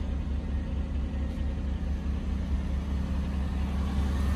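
A Chevrolet Monte Carlo bought at a public auction idles steadily with a fairly high engine drone, a continuous low rumble that stays even and close throughout, with no talking.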